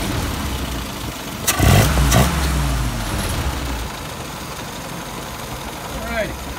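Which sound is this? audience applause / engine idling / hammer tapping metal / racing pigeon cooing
engine idling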